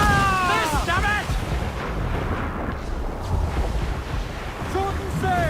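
Ship cannon fire during a naval battle in the Assassin's Creed Black Flag video game, heavy booms over rushing sea and battle noise, with shouted crew voices throughout.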